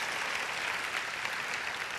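A pageant audience applauds the contestants at a 2017 Strassenfest pageant, a dense, even wash of many hands clapping at once, steady and somewhat distant, with no speech over it.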